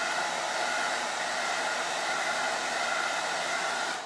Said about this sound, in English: take cool hairdryer. No heat needed. And we're just going to dry this.